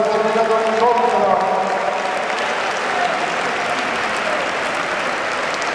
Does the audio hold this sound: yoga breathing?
no